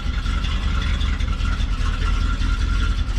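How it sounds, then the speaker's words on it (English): A steady low engine idle from an RV motorhome, after exhaust manifold repair, rumbles close by, even and continuous with no change in pitch. "You can just hear normal engine sounds in there."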